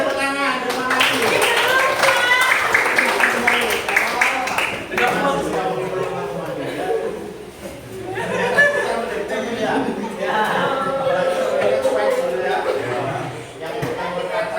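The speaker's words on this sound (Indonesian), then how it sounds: "Oke, baik, tepuk tangan." A classroom group of trainee teachers applauds, clapping unevenly under chatter and light laughter, while voices talk over much of the clapping.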